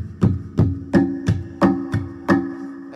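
Black Martinez Hispania classical guitar heard through its built-in EQ and amplifier, with a series of about seven boomy, resonant body knocks or strums ringing at an even pace with sustained low tones between hits.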